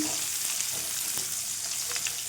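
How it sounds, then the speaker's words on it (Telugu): Four garlic cloves frying in a pan for bitter gourd and onion chili dish, a dense, even sizzle close up with faint occasional stirring, continuous over a couple of seconds. "ఒక నాలుగు వెల్లుల్లి రెబ్బలను అయితే వేసుకుందాం మంచిగా వేయించుకోవాలండి"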